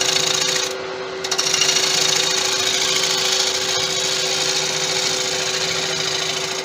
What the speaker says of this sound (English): I'm going to do a side bevel cut on it.